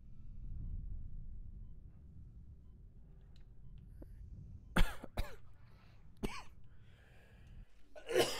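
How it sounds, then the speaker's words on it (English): A video game character coughs several times in short, sharp bursts after a low mechanical rumble fades, then a brief strained gasp follows. "those coughs hurt"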